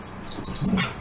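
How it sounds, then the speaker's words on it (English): A dog acting excitedly gives a brief near whimper and yip, a short high whine lasting about a second with no talk. "sorry my dog's acting crazy"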